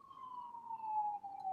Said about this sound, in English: oh dang, police are coming